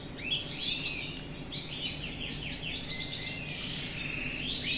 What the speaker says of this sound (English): This pair here is two red mosaic canaries.